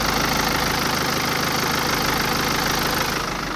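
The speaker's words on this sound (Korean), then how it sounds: "진짜 딱 규칙적인 디젤음만 들려지고 있었습니다" A BMW X3 diesel engine idles with a steady, regular clatter and low rumble, recorded close up and continuous with no voices.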